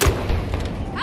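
A grenade detonates in Battlefield 2042 Conquest on the Breakaway map, giving a short, heavy thump with a low boom amid ongoing battle noise.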